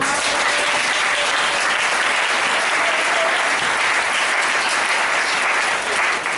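A church congregation applauds loudly and continuously during a worship service, a thick, even wash of many hands clapping close by with no pause.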